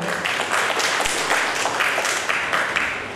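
Applause from an audience at a birth anniversary ceremony for Dr. Babu Jagjivan Ram in Mandya, dense clapping in rhythmic surges, steady and fairly close, with no voices over it.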